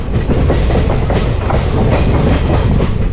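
Passenger train running into Madarihat railway station, a steady loud close rumble with rhythmic clickety-clack of wheels over rail joints throughout, no voices.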